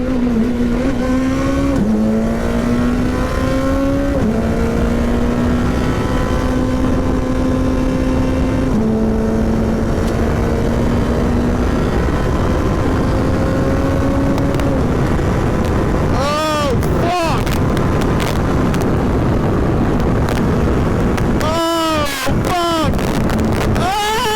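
A race car laps a track with a loud, close engine whose pitch climbs and drops through gear changes. Heavy wind rush sits underneath, and a cluster of quick revs and shift pops comes in the later part.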